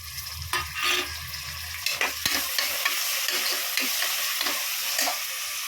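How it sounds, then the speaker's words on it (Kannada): Onions and tomatoes sizzle as they fry in a pan for a fenugreek pulao, with steady frying hiss and repeated scraping clicks of a spoon stirring, close and without talk. "ಇವಾಗ 2 ಟೊಮೊಟೊ ಕುಯ್ದಿಕ್ಕಿರೋದನ್ನು ಆ್ಯಡ್ ಮಾಡ್ಕೊಳ್ಳೋಣ."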